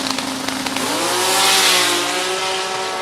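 Toyota Supra six-cylinder drag car screaming down the strip, a loud, sustained high-revving engine note climbing through gears with a steady harmonic whine close by.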